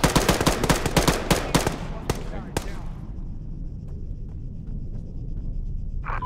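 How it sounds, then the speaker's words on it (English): Several sharp gunshots in Arma, a military video game, crack in quick succession over the first three seconds, some in rapid bursts, before trailing off into quieter distant battlefield ambience. "Sounds like shots south."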